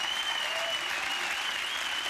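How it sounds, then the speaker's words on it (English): Talk show studio audience applause, a dense, even wash of many hands clapping that holds steady throughout, heard at a moderate distance with no break. "People clapping you because you're not minging."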